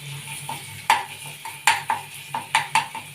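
Onion and ginger-garlic paste masala frying in a pan, a soft sizzle broken by several sharp scraping and clinking strokes of a spoon stirring against the metal, close and without voices.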